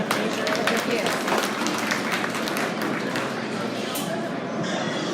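Steady broadband applause from an audience at a swine show, many hands clapping evenly and fairly loud throughout, with no voices rising above it.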